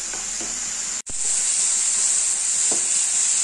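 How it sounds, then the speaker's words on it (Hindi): Pumpkin frying in a pan over a medium flame, giving a loud, steady sizzle and hiss throughout, with one brief dropout and a few faint stirring scrapes. "कद्दू को मीडियम फ्लेम में फ्राई करेंगे"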